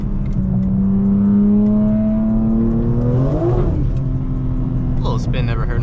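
BMW M4 G82 revving hard while spinning its wheels, a loud, steady engine roar with a rising pitch sweep near the end, close and continuous, with people talking over it.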